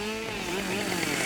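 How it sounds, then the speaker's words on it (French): A chainsaw engine runs steadily at close range, its buzzing pitch wavering slightly as it revs, with no voices over it. "Ce que l'on appelle rebond de tronçonneuse, c'est le retour très rapide du guide de la chaîne vers soi."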